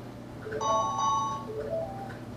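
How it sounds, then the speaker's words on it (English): A mobile phone sounds a text message alert, a short sequence of bright electronic tones rising then repeating, ringing clearly over a quiet room. "No, there's a text message."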